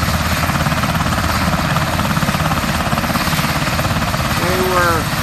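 A Black Hawk helicopter takes off nearby, its rotor producing a loud, steady, pulsing thump with engine whine throughout, and a brief voice near the end.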